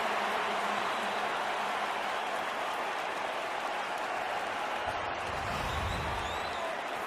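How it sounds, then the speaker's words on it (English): A stadium crowd at a 2009 NFL game between the Vikings and Cardinals roars and applauds in a steady, dense wall of noise that holds at full strength for the whole stretch. "that's Calais Campbell, number 93, who exhilarates the crowd"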